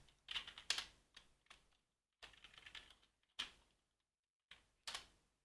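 Someone types code on a computer keyboard in short, quick bursts of clicks separated by brief pauses. The keystrokes are close and fairly quiet.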